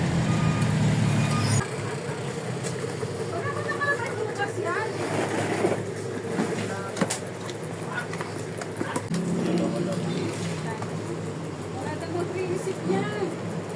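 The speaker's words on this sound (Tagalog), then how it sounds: "Naku, may truck pang papasok." Truck pulling in at a gas station, its engine rumbling and reversing beeps sounding intermittently amid busy forecourt noise, with people talking over it.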